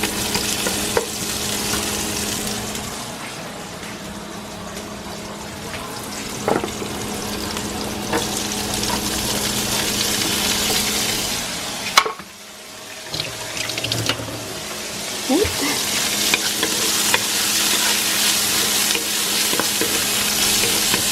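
Ginger frying in olive oil, a steady loud crackling sizzle that runs throughout, with occasional clinks and stirring scrapes and a brief dip midway.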